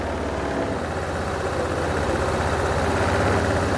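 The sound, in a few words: engine idling while RPM adjusted after engine fitting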